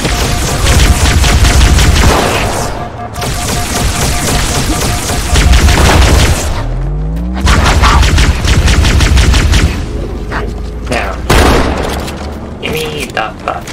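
Loud gunfire from a gun in Halo: Combat Evolved Anniversary, with rapid bursts and heavy booming shots that continue almost nonstop, broken by brief pauses and an electronic sweep.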